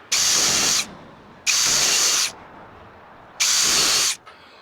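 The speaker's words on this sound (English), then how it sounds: "I'm just going to drill an hole, countersink hole on all of them" A power drill bores countersink holes into pieces of 2x4 and 1x6 wood for furniture, making three loud, steady whining bursts of about a second each, with short quiet gaps between them.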